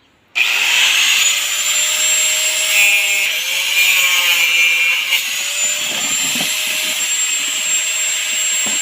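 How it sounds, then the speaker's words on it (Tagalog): An angle grinder whines steadily at close range, loud and continuous for several seconds, with the pitch dipping and scraping as it bites into plastic; no voices. "Gagamit tayo ng grinder para maputol natin kaagad."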